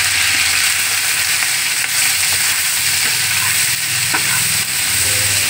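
Capsicum and onion go into a frying pan with garlic and ginger and are stirred, giving a loud, steady sizzle with occasional spatula knocks and scrapes up close.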